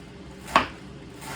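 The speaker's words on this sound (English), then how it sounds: "Finish chopping this Napa cabbage." A single crisp knife chop through Napa cabbage on a cutting board, close and sharp, standing alone over a faint room hush.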